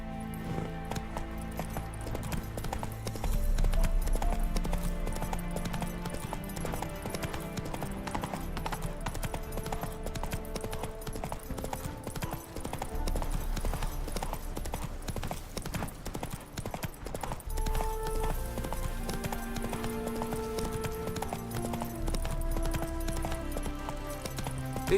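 Roach, a horse in The Witcher 3, gallops in a fast, steady clip-clop of hooves that carries on at length over a music bed.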